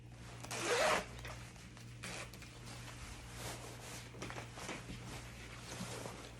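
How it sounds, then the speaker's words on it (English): A jacket zipper is pulled up in one quick, bright rasp close to the microphone, followed by quiet rustling of the fabric over a low steady hum. "Zip it up."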